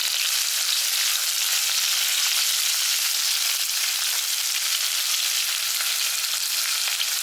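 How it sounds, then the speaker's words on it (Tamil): Shallots, green chili and curry leaves sauté in hot oil, giving a steady, dense sizzle that holds evenly close by throughout, with no talking. "கொஞ்சோண்டு கருவேப்பிலை இதை நல்லா வதக்கிடலாம்"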